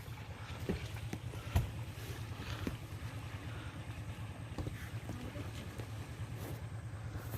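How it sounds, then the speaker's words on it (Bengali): A boat moving through mangrove water near the Bay of Bengal, a steady low rumble and churning wash running throughout with wind buffeting the microphone and a few sharp knocks. "তো আমাদের নৌকা যে শুরু করে দিয়েছে"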